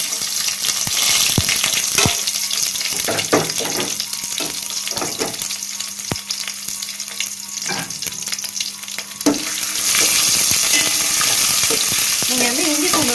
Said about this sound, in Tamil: இஞ்சி பூண்டு போட்டு நல்லா வதக்கலாம்.